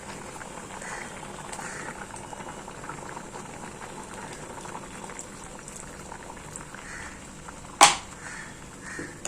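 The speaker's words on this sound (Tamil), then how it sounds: "நல்லா கொதிக்க ஆரம்பிச்சிடுச்சு" Karakuzhambu curry with chili powder bubbling steadily in a pot, a soft continuous simmer with a sharp clink or knock near the end.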